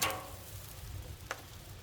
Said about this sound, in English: Peppers, the asparagus, the onions, all of that's going together right in here.